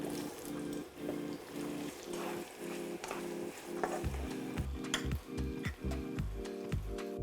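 Red onions frying in oil in a pan for a spicy chicken chilli fry, with a steady close sizzle and bursts of stirring through the middle, a scraping rhythm joining in toward the end.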